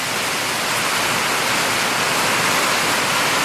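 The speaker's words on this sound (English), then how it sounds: "Guys, that is the rain" Steady rain pours down outdoors in a dense, even hiss that fills the whole stretch at constant loudness, with no voices over it.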